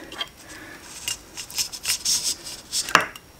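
During a transfer case swap, a screwdriver or small pry bar levers a part loose with a series of close scraping, rubbing bursts and a sharp click near the end.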